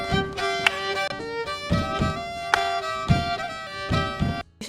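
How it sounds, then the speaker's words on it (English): Violin playing a lively Negro jig tune with sustained bowed notes, joined by rhythmic claps and bones-like percussion in a steady, moderately loud ensemble recording. "you should hear the violin in the background"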